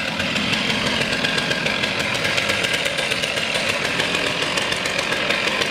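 A running chainsaw drones constantly and loudly while being hoisted up a 60 ft pine tree on a rope during tree removal, its engine held at a steady rough idle with no voices.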